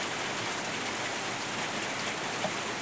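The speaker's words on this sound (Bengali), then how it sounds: "আর এখানে বৃষ্টি পড়ছে।" Steady rain pattering down on surfaces, a dense even hiss that continues unbroken throughout.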